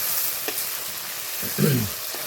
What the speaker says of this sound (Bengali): এই মশলাগুলোকে আমি ভালো করে কষিয়ে নেব